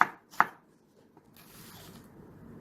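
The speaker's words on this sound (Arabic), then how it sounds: "رح هلا ابتدي تقطيع البصل للحشوة" A knife finely chops onion on a board for kibbeh filling, with two sharp close cuts followed by softer faint scraping and rustling.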